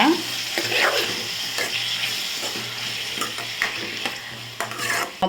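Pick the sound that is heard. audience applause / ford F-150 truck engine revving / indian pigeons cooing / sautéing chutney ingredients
sautéing chutney ingredients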